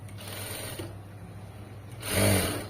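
A sewing machine stitching the front part of a blouse, a short whirring run that rises to a louder burst near the end, close and alone.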